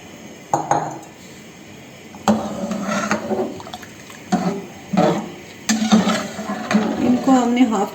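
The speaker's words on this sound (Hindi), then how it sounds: "तो इसमें चावल डाल रहे हैं।" Raw rice tipped into a pot of hot water on a lit stove for mutanjan, a Pakistani sweet rice dish, giving splashes and clinks of pot and utensil amid ongoing talk.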